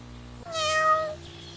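A single drawn-out, tonal cat meow, clear and close, rising then holding steady before fading out over a quiet background hum.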